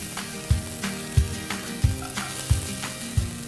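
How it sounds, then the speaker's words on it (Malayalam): Dried prawns dry-roasting without oil in a hot pan, giving a steady low sizzle and rustle, with a soft stirring scrape or knock roughly every two-thirds of a second, close and alone. "ഇതിലേക്ക് നമ്മുടെ ഉണക്ക കൊഞ്ച് ഇടുകയാണ്."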